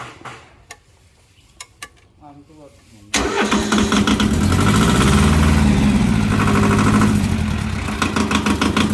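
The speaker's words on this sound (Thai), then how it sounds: "ลองเสียงสตาร์ทนะครับ" An old Japanese tractor engine cranks a few times, then roars to life and settles into a loud, steady chugging idle.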